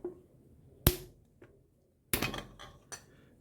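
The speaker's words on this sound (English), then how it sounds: "I just used the butt end of my dead blow hammer and I pushed it out" Sharp metallic knocks and clinks ring out as a dead blow hammer's butt end pushes a piston out of an LS engine block, a few isolated hits with quiet gaps between them.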